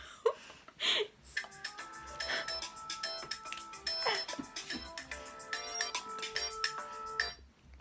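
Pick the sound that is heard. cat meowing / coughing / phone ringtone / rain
phone ringtone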